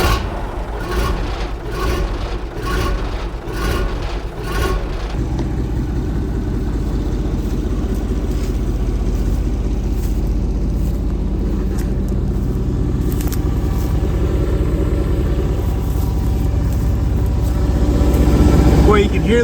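An old bulldozer's diesel engine idles with a deep, steady rumble, loud and close. Rhythmic knocking marks the first few seconds before it settles into an even drone.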